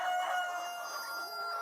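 Chickens in a nest house where hens lay eggs, with a rooster crowing: a drawn-out, strained crow over a bed of clucking and hen chatter, close and fairly loud, no talk.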